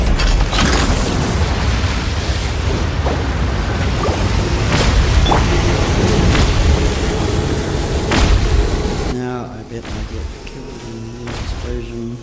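Explosions in a boss-farming video game fight, heavy booming blasts and crashes filling most of the stretch before cutting to quieter game sounds, with character voice lines heard over the action.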